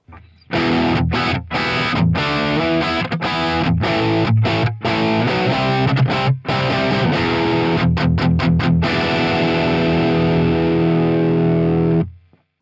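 A heavily distorted electric guitar through a Fractal Axe-FX cabinet impulse response plays a chugging riff with brief stops between chords, loud and saturated, ending on a sustained ringing chord.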